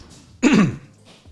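A single short cough or throat-clear, close and abrupt, with quiet around it.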